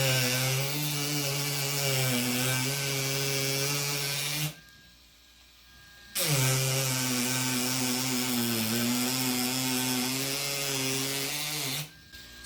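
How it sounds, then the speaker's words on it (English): A Ryobi 4V USB lithium power carver gouges wood with a steady buzzing motor hum, running in two long bursts split by a short pause, close and clear with no talk. "So even though I'm gouging out more, you hear the tool is still holding up fine."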